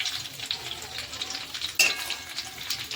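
Khajur pak, a date sweet, cooking in a frying pan over a low gas flame, with a continuous close sizzle and crackle and one sharper clink partway through.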